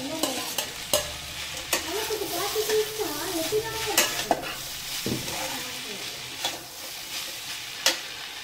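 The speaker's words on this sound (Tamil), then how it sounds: "குடமிளகாயும் பச்சை மிளகாயும் சேர்த்து அடிச்சு வச்சுருக்கேன்" Chopped capsicum and green chilli sauté in a hot pan, a soft sizzle underneath as a spatula stirs and scrapes repeatedly, with occasional sharp knocks against the pan.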